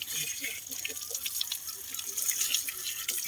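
Plain tap water runs and splashes in a steady, hissy wash, close and continuous for the whole stretch.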